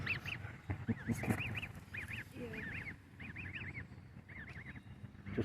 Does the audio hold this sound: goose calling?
yes